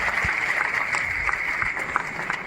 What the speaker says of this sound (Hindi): आपकी तालियां मित्रों हल्की नहीं पड़नी चाहिए